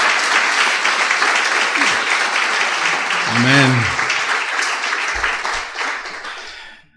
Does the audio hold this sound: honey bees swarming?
no